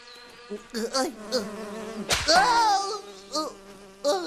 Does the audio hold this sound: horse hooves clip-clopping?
no